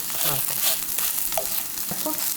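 A cabbage pancake (baechu-jeon) frying in oil in a pan, a steady close sizzle with a few scraping and stirring touches, over a brief moment.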